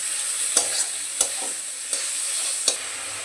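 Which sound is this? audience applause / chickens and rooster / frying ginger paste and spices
frying ginger paste and spices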